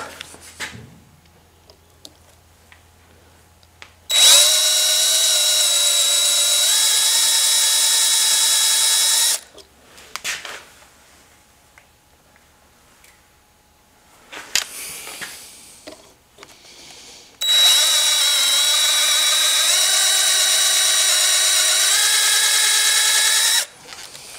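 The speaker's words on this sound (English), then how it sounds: "So let me cut this off and drill it out." A power drill whines loudly in two long bursts, each several seconds, separated by quieter stretches of scraping and handling noise, as a centre drill bores into rusty metal.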